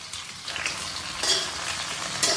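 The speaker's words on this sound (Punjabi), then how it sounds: "ਇਹਨੂੰ ਹਾਫ ਫਰਾਈ ਕਰਨਾ ਹੈ ਆਪਾਂ" Cut okra fries in hot oil in a kadai, a dense, loud, continuous sizzle with a few brief surges and no voices.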